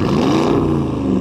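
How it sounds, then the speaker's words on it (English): A straight-piped Porsche Cayenne Turbo engine revs with a loud, deep, rumbling roar that holds steady and then rises slightly, heard close up. "You go rev it for me."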